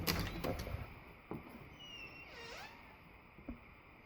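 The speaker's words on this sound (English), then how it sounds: "I'm going to open the door." A garage workshop door swings open with a few faint clunks, followed by a brief rising squeak and scrape of the door moving, and a soft thump near the end, all quiet and close.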